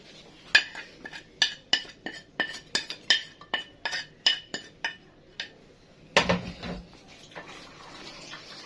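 A utensil stirs chopped vegetables with onion, black pepper and salt in a glass dish, making a rhythmic series of crisp clinks and scrapes close by, about a dozen strokes followed by a louder clatter.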